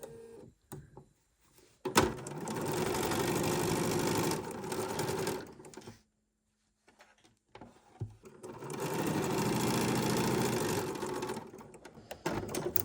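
A Bernina sewing machine stitches a quilt block in two long, steady runs of rapid, whirring needle strokes. Short pauses and quiet handling noises come before and between the runs, and no one speaks.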